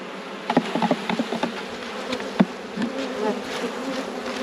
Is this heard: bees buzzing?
yes